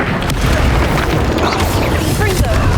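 A spell blast in a fantasy action game lands with a loud, broad boom that rumbles on for a few seconds, set among other battle effects.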